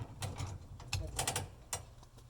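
A ratchet strap is cranked tight on a farm load, giving a quick run of separate metallic clicks and ratcheting clacks, close and faint.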